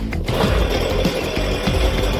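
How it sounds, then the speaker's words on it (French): A loud chainsaw buzzes and cuts continuously nearby, its motor pulsing in a rough, rhythmic drone. "Une tronçonneuse."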